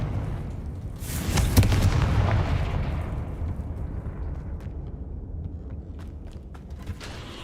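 A spell blast in Hogwarts Legacy goes off with a sharp, loud burst, then trails into a creaking, crackling rumble that slowly fades, with scattered small pops afterward.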